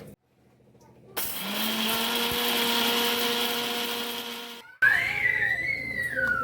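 A mixer grinder blending spicy Andhra chutney with roasted chana dal whirs loudly for a few seconds with a steady high-pitched motor whine, then stops abruptly; a voice follows briefly afterward.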